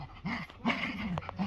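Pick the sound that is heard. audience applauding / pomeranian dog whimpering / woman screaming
pomeranian dog whimpering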